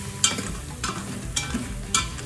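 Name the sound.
whisking flour into beef stroganoff in Instant Pot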